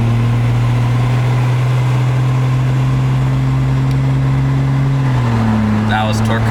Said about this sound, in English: That was torque converter lockup.